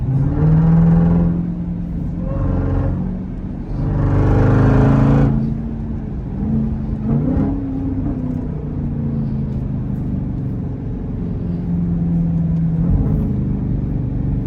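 Dodge Durango Trackhawk exhaust rumbling while driving in snow, with three loud throttle surges early on over a deep, steady engine drone that then settles into a lower cruising rumble, and no talking.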